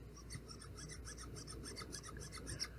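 A titanium folding knife with a satin-finished blade closes as its detent ball drags across the finish, giving a quiet, rapid zipping rasp of closely spaced ticks, steady and faint throughout.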